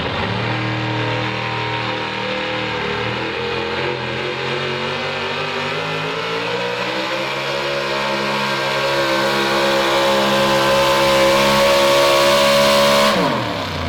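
A pulling truck's engine roars loud and sustained at a truck and tractor pull while dragging the sled, its pitch climbing steadily through the run before cutting off abruptly at the end.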